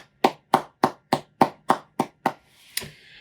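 About eight crisp, evenly spaced hand claps from a single person ring out alone in a quiet room, offered as applause honoring graduates' families at an online 2020 commencement, followed by a faint breathy rustle.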